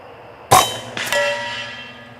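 A .25 caliber PCP air rifle fires at a target 100 yards away: a sharp report is followed half a second later by a ringing metallic clang with a long fading tail, outdoors.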